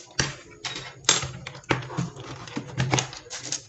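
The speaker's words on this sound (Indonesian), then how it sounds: "lagi aja ngetik cukup nih laptop apakah berfungsi dengan baik atau tidak" Someone types on a laptop keyboard fitted with Outemu Silent switches, producing muffled, uneven keystroke taps in quick irregular bursts at close range.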